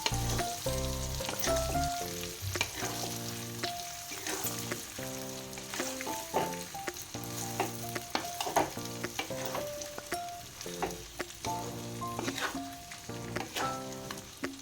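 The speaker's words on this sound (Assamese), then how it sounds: "আৰু এতিয়া মই এইখিনি ভালদৰে মিহলাই লওঁ" Mango pieces are stirred together with spices and mustard oil, making rhythmic, wet scraping and squelching strokes close by at a moderate level, with no one speaking.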